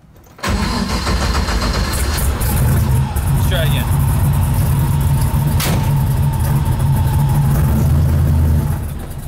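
A Chevy drag car engine cranks and catches, then runs at a loud, steady rumbling idle close by, with a person speaking briefly over it.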